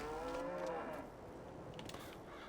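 A single low moo from a video game cow rises and trails off, followed by quieter ambient background, with no one speaking.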